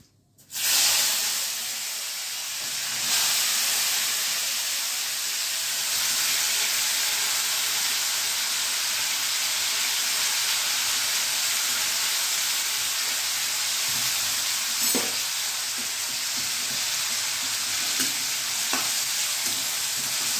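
Mustard seeds, fenugreek, cumin and asafoetida crackle and sizzle in hot oil for tempering: a loud, steady frying hiss that continues throughout, with a few faint clinks and no talking.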